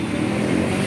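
A motorcycle engine runs steadily close by in a continuous idle-like rumble, with no talk over it.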